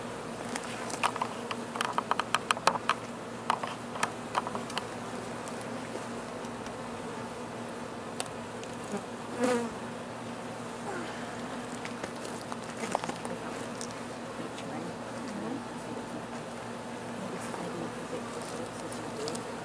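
Honey bees buzz steadily around a hive, a dense droning hum with a few sharp ticks and knocks early on.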